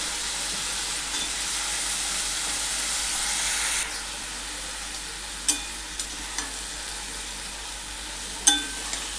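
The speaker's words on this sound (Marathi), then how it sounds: "आता वांगे आणि बटाटे आपण जे कापून ठेवले होते ते आपल्याला ह्याच्यामध्ये टाकायचं आहे आणि छान परतून घ्यायचे" Brinjal and potato pieces sauté in a hot pan with a steady, close sizzle and hiss throughout, with a few sharp clicks of a spatula or lid near the end.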